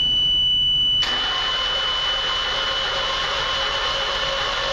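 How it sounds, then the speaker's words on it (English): A cold Kawasaki lawn mower engine catches after a moment of quiet and settles into a steady, loud, buzzing idle that continues without letup. "Now we'll go ahead and see how the one with the Kawasaki engine starts up."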